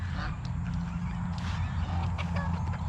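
Geese honking on a farm among other fowl, with bantam chickens and a cattle pen nearby; repeated honks sound at a middle distance over steady low background noise.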